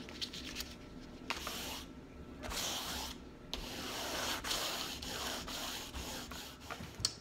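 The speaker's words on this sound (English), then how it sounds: "a couple of pieces of sandpaper in wet and then some in dry" Sandpaper is rubbed across a Firebird model kit body in steady back-and-forth strokes, making soft rhythmic swishes about once a second, close and quiet with no talking.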